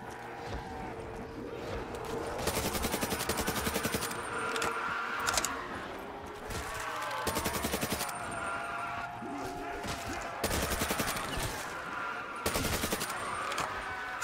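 Repeated bursts of gunfire from a Call of Duty custom zombies map set in a Modern Warfare 2 terminal, coming in loud clusters of rapid shots over a steady game background, with a voice talking at times.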